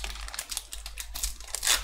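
Crinkling and tearing foil wrappers of first-edition Yu-Gi-Oh Maximum Gold card packs being opened by hand, close-up rustling in short bursts with no talking.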